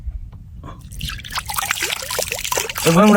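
Seawater poured into a cupped hand aboard a fishing boat at sea, a soft trickle and dribble close by, with voices talking over it and a louder rustle near the end.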